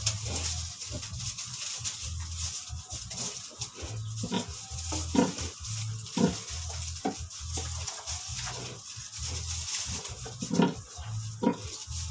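A sow in a farm pen grunts in low, rhythmic, repeated pulses while giving birth, close and steady, with occasional sharper snorts over a constant background hiss.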